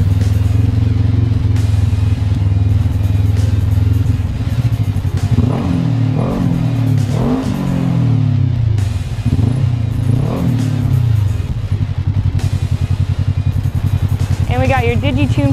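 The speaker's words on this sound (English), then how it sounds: "What we did for the exhaust is we added a full Muzzy system." Polaris RZR XP 1000 UTV fitted with a full Muzzy exhaust system idles loudly and close, then blips the throttle in several sharp revs that rise and fall before settling back to a rumbling idle.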